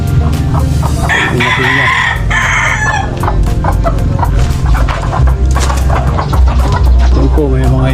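Chickens bred on a rural Philippine farm cluck and a rooster crows repeatedly, loud and close, with people talking throughout.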